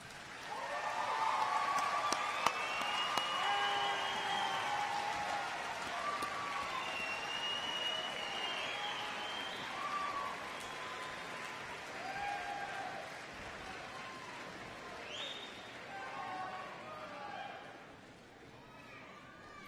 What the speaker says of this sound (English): I would like the graduates to join me in a standing round of applause to thank your family, friends, and others